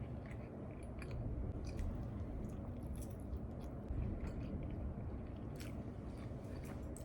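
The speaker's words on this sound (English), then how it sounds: "Chew it slow." Close, steady chewing on a bite of low-calorie pizza, with soft wet mashing and faint crunches running continuously without a pause.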